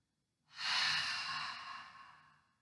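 A long, soft exhale pushed out through an open throat, a breathy "ha" that swells quickly and fades slowly over about two seconds, alone in a quiet room.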